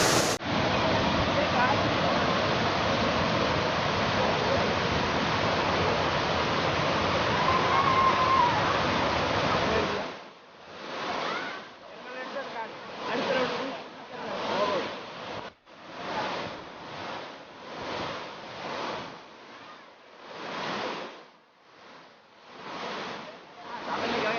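Thirumoorthy Malai waterfall, running with a moderate flow after light rain upstream, gives a steady loud roar for about ten seconds, then the rush comes through in fluctuating surges under a talking voice.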